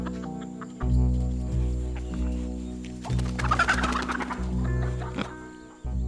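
Hens clucking and murmuring in a close group inside a henhouse, with a burst of agitated cackling partway through as a young raccoon enters, over a low steady hum.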